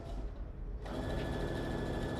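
A sewing machine stitches fabric for a craft bucket bag, its steady mechanical whir running close and continuous, picking up slightly in speed partway through.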